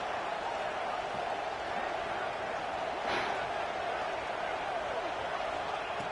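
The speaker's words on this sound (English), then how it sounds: "This crowd is trying to inspire this defense to make a big red zone stop." Stadium crowd noise in a college football video game swells to a steady, dense roar as fans urge the defense during a red zone stand, with a commentator talking over it.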